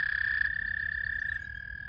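A frog croaks in a steady high trilling call, the first frogs of the season singing at a garden pond, fairly close and alone, with low background murmur beneath.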